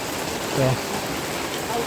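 Steady hiss of heavy rain falling nearby and flooding the street, continuous and even, with a brief murmur of voices faintly underneath.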